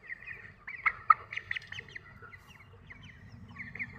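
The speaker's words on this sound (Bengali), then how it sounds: "বন্ধুরা দেখতে পাচ্ছেন আমি একটি মুরগি তুলে দিলাম।" Chickens on a small farm cluck and squawk in short irregular bursts, close by, with one broiler being lifted onto a weighing scale amid the flock's steady murmur.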